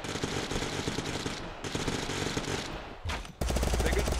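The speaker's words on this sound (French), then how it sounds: "Hey, tu t'es fait tirer dessus là par contre." Rapid automatic gunfire in Totally Accurate Battlegrounds, dense loud bursts that pause briefly and then resume even harder near the end.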